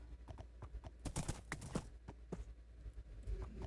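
Horse hooves clip-clopping in Minecraft, a run of quick, close hoof knocks under light game ambience with no talk over them.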